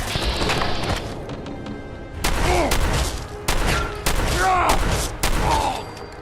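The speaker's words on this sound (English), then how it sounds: "I hear gunfire" Repeated bursts of gunfire crackle through a dense, noisy Fallout 4 game soundscape with the Sim Settlements 2 mod, several volleys in quick succession with booming impacts, loud and close.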